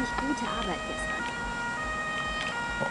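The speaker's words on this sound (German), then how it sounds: "Natürlich mit blaulichen Sirenen, man weiß ja nie" Emergency vehicle siren in the Feuerwehr 2014 firefighting simulation game, a steady wailing tone over constant engine and game noise, loud and continuous throughout.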